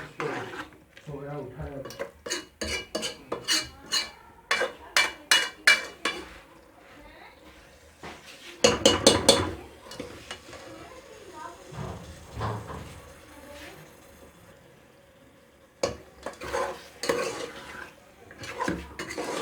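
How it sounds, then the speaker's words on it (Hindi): Potatoes and peas being sautéed in a pan, with a spatula knocking and scraping against the metal in rhythmic bursts of clanks, separated by quieter stretches where a person talks. "इसको भी अच्छी तरह भूनेंगे हम, ताकि आलू और मटर गल जाएं"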